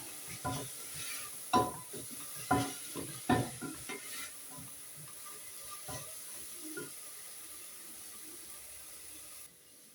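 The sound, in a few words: stirring onions in a pan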